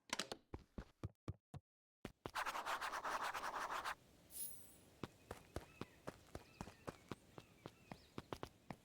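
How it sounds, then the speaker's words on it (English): Footsteps in the video game Beacon Pines: a steady run of sharp, close steps that briefly pauses for a burst of rustling, then returns as an even, quicker patter. "Luca heard a group of footsteps approaching."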